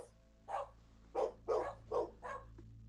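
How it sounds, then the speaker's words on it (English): Several dogs barking in five distinct bursts, each loud and fairly close, spaced roughly half a second apart over a steady low indoor hum, with no talking. "The dogs are taking over."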